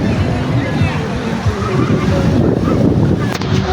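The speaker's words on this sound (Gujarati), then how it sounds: "આ તો દરિયામાં ફૂલે ફૂલ મોજા આવે" Sea waves surge and wash in a constant, loud rush close by, while a person talks over the noise.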